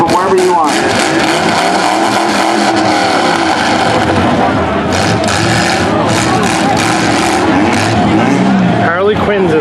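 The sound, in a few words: demolition derby car engines running during parade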